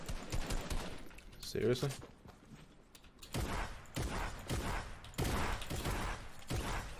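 Bursts of automatic gunfire in Fortnite crackle in several clusters, loud and close, with a short spoken exclamation between shots.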